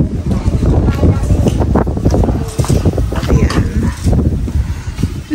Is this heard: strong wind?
yes